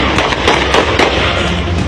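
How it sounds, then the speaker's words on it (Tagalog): Successive gunshots ring out during a military ambush on a roadway in Maguindanao del Sur, a loud, dense burst of rapid cracks and booms that keeps going without a break and carries no voices. "umalingaw-ngaw ang sunod-sunod na putok ng baril"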